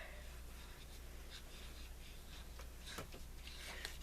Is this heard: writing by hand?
yes